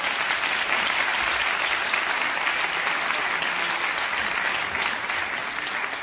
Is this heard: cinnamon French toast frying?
no